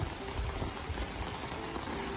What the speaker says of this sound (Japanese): めちゃくちゃ雨降ってます。